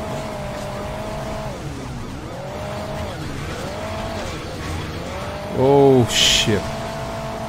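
Car wheels spin and skid in Hill Climb Racing 2. An engine whines, rising and falling in repeated revving sweeps, with a burst of tire squeal and skidding near the end. Someone speaks briefly over it.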